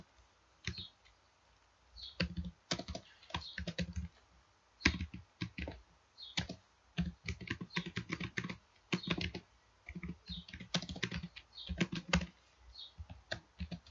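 Rapid typing on a computer keyboard while writing an HTML link, with dense bursts of crisp key clicks and short pauses between, close and clear with no talking.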